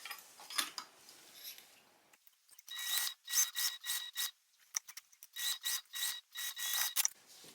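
A sewing machine stitching fabric from tab to tab with a quarter-inch seam allowance, running in short repeated bursts with brief pauses between them, close and fairly quiet with no speech.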